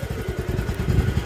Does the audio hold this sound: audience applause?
no